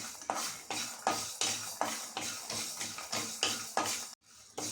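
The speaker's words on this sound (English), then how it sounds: "Add white thill also and roast it for just 30 seconds." White sesame seeds roast in a pan with a soft sizzle, broken by a steady series of regular stirring scrapes against the metal, close and fairly quiet.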